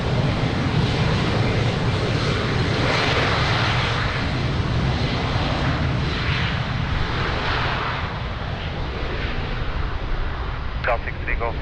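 An Embraer 190 airliner departs the runway at Lisbon Airport, its engines a loud, steady broadband roar that fills the whole stretch without a break, with no voices over it.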